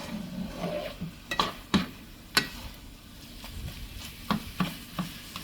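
Scrambled eggs and poke salad fry in a pan, a soft low sizzle under sharp spatula taps and scrapes against the pan, irregular and close, with no talking.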